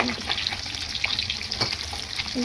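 Meat sizzles steadily in a hot pan during fish vorta cooking, a dense crackling hiss with a few brief scrapes of stirring, close and fairly loud throughout.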